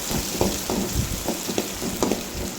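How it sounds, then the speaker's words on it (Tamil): Onions sautéing in a pan with mustard seeds, curry leaves, cinnamon and chilli for a bean and egg stir-fry, a steady close sizzle broken by several soft scraping stirs, with no talking. "நல்லா வதக்கி விடுங்க."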